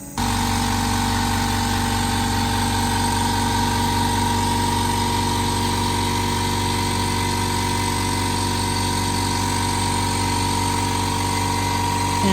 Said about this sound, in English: engraving machine is a bit noisy